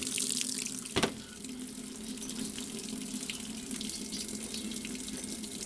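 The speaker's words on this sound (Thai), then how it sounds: "เติมน้ำไม่มีปัญหานะฮะเติมน้ำได้" Water pours steadily into a Toshiba AW-9765ST top-loading washing machine as it fills, a continuous close rushing wash of sound with one brief sharp knock near the start.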